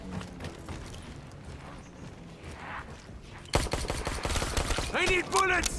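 Rapid gunfire in the video game Call of Duty Black Ops 3 Origins, a dense burst of close, loud shots that breaks out suddenly after quieter game ambience and footsteps.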